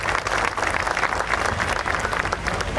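An audience at a women fishworkers' day event in a Koliwada hall claps continuously, a dense, steady wash of applause that fills the short stretch without a pause.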